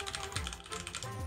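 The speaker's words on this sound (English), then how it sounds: "We can do that by typing" Rapid typing on a computer keyboard at a desktop, a quick close run of light clicking keystrokes over a faint background hum.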